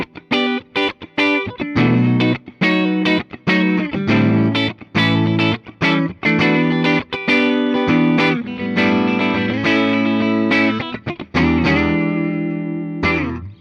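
An Epiphone Les Paul Custom electric guitar, a 2025 blue quilt-top model, played clean on the middle pickup position: strummed chords and picked notes ring out loud and chimey, with short pauses between phrases and no talking.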